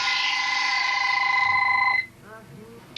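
A telephone bell rings loudly and steadily for two seconds, then stops abruptly, leaving only quiet room noise and a few faint sounds.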